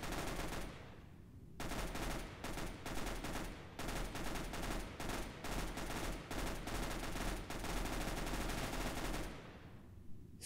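Rapid automatic gunfire from a video game rattles in long, dense bursts with short gaps, loud and continuous with no voices over it.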